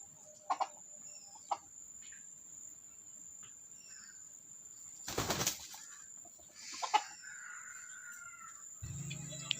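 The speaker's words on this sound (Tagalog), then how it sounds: "Magpapagaspas na." A rooster's wings flap in a brief loud burst midway through, over a constant high cricket trill, with scattered clucks and rustles before and after.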